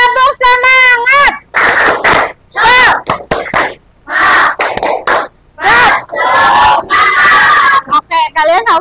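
A school class chanting the tepuk semangat clapping cheer, loud young voices shouting in rhythm with sharp bursts of group clapping between the calls.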